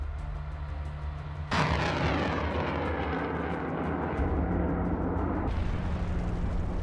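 A HIMARS rocket strike on Russian tanks erupts as a sudden heavy boom, followed by a sustained roaring rumble for several seconds before easing back to a steady background drone.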